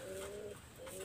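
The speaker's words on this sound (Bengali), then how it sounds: "এখানে একটা ক্রসবিট কবুতর আছে" A crossbred pigeon coos nearby, two soft drawn-out calls separated by a short pause, faint but clear against a quiet background.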